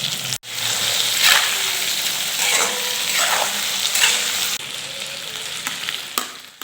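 Catfish sizzling loudly in hot oil in a pan with salt, turmeric, cumin powder and red chili, a steady close frying hiss with occasional stirring scrapes and bubbling surges throughout.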